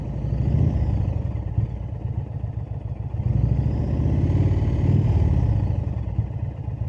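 An Indian Springfield motorcycle engine, which has cylinder deactivation, revs up and settles back twice in a steady low rumble recorded close by, with no talking.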